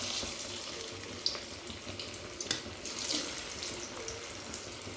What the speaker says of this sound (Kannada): ಎಣ್ಣೆ ಕಾದಿದೆ. ಈಗ ಒಂದೊಂದೇ ಪೀಸ್ ಬಿಡ್ತೀನಿ.